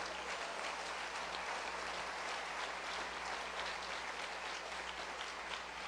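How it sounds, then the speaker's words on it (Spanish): Church congregation applauding during a Spanish-language sermon, a dense, continuous wash of clapping that holds steady throughout, fairly distant and evenly sustained. "Dele palmas al Señor de la gloria."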